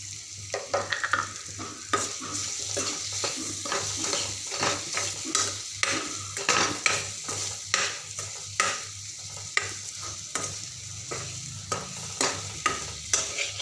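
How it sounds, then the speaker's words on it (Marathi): Potatoes frying in masala for a quick Marathi aloo masala are stirred steadily in a pan, rhythmic scraping strokes repeating every half second or so over a constant close sizzle, with no talking. "मसाल्यामध्ये बटाटे छान असे फ्राय झाले आहे"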